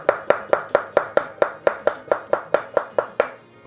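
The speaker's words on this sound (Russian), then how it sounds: "Так, просто нарезаем на слайсы." A knife slices a pickled cucumber on a cutting board, giving about sixteen crisp, evenly spaced chops in a quick, steady rhythm, close and clear with no talking.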